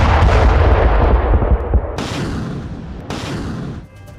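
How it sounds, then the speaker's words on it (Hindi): A Russian multiple-launch rocket system fires a barrage at night in Kursk: a dense, loud roaring rumble that breaks into sharp, rapid cracking launches, then several distinct whooshing bursts before trailing off. "MLRS सिस्टम से बारूदी बौछार की गई।"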